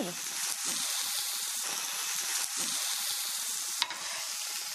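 Salmon pieces sear in a hot frying pan for salmon with sorrel, giving a steady, close sizzle throughout with one brief clatter near the end.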